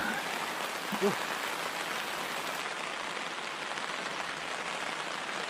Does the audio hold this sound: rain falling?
yes